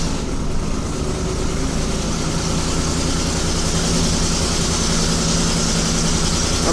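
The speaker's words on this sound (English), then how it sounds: "I'm going to wait till the engine idles down." A 2008-2010 Ford Super Duty pickup (F-250, F-350 or F-450) idles just after a key start, its engine giving a steady, loud, close-up rumble that stays even throughout with no talking.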